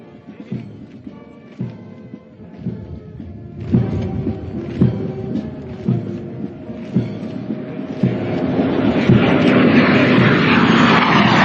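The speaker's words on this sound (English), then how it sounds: "may I direct your attention to the 3 Kiran aircraft formation led by Wing Commander Samit Eldulkar" Formation of three Kiran aircraft flying over an Indian Air Force cadet graduation ceremony, a jet roar swelling steadily from distant to loud and broad, with a rhythmic clattering pulse beneath it.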